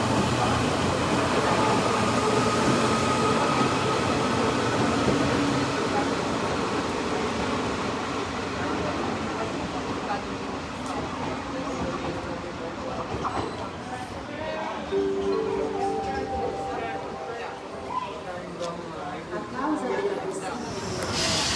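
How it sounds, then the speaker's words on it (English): A Rome Metro Line B train pulls into Euromagliana station with a steady rumbling roar that gradually eases as it slows. A voice talks over the noise throughout. "Here is my Metro Line B train arriving into Euromagliana to take me back into Rome city centre at Colosseo"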